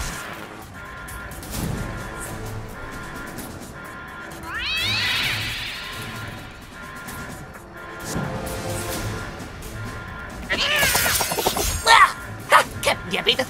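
Cats released in the South Park video game meow and caterwaul repeatedly, mixed with game sound effects and a shattering crash near the end, with a voice talking at times.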